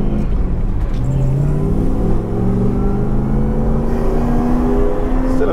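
A Lexus IS200 fitted with a 1UZ engine, driven on a track for drifting, roars loudly and continuously as it revs hard through the whole stretch, close up and without talk.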